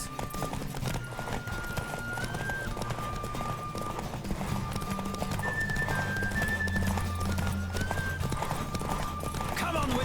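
Rhythmic hoofbeats of a galloping horse in the video game The Witcher 3: Wild Hunt, steady and close, under continuous music with a sustained melody line.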